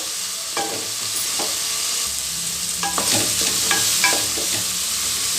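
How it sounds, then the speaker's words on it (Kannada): Drumstick gojju mixture frying in a pan, a steady close sizzle with intermittent scraping stir strokes against the pan, no voices. "ಒಂದೆರಡು ನಿಮಿಷ ಇದೇ ಥರನೇ ಇದು ಫ್ರೈ ಆಗಬೇಕು"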